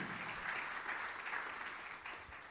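A church congregation claps during a worship service, giving a sustained round of applause. The dense clapping sounds fairly distant and fades slightly toward the end.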